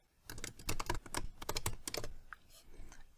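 Rapid keystrokes on a computer keyboard as code is typed, a busy run of close, crisp clicks in irregular bursts that ease off toward the end, with no voice.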